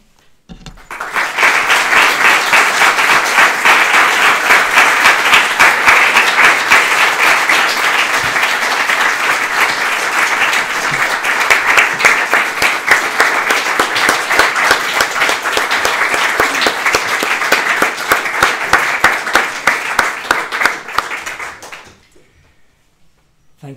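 Sustained audience applause at a Buddhist Dharma Day festival, many hands clapping loudly and evenly for about twenty seconds before fading out quickly.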